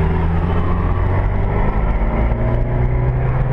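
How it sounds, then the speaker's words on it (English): A loud, continuous engine drone from a nearby car passing on the Silverstone race track, steady and close, with a sustained low rumble throughout and no voices. "we've got a car coming through."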